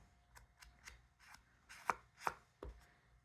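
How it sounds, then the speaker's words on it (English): Sandpaper scrubbed lightly across a glossy playing-card tuck box in a few short, scratchy strokes, separate and fairly close, each a brief rasp with quiet pauses between. "So just sand it slightly"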